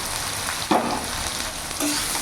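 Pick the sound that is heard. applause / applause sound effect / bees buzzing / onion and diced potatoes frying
onion and diced potatoes frying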